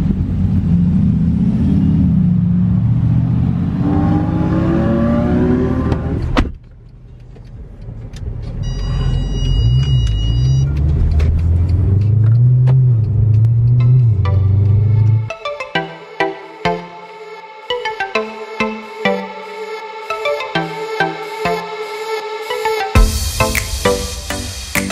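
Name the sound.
cars leaving hotel parking lot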